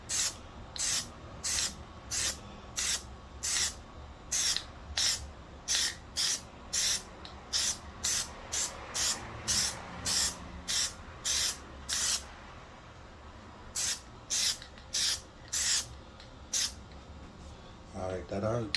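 Plasti Dip sprayed from an aerosol can onto a Dodge Durango roof AC vent, a series of short, evenly spaced hissing bursts with brief pauses between them, close and loud.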